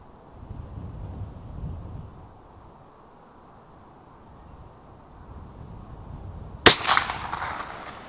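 A single sharp crack from a CZ 457 Lux .22 rifle at an outdoor range, loud and close after several seconds of gusting wind noise, with a short ringing tail.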